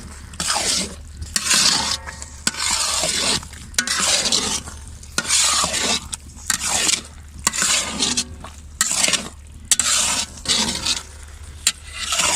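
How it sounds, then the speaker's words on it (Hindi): Grated carrots frying in about a cup of oil for gajar ka halwa, stirred in a pan: loud, continuous sizzling broken by repeated scraping strokes of the spoon, close up with no talk. "ऑयल डालते हैं, तकरीबन 1 कप मैं डालूँगी इसमें ऑयल, और उसको भूनते हैं 5 से 10 मिनट"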